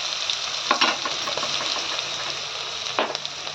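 Cumin, curry leaves, garlic and green chilli sizzle in hot oil in a kadhai after mustard seeds, a steady loud crackle with a few sharper stirring scrapes, no talking.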